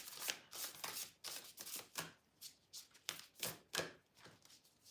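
Oracle cards shuffled close by in a quiet room, a run of soft rhythmic riffling bursts about twice a second, with no talk over them.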